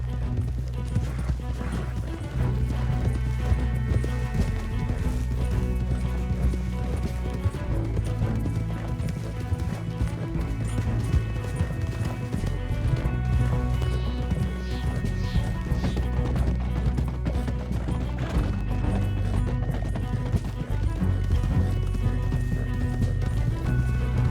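Steady hoofbeats of galloping horses in the video game Red Dead Redemption 2 pound along under a dense, busy backdrop of clatter and low rumble, continuous and loud throughout.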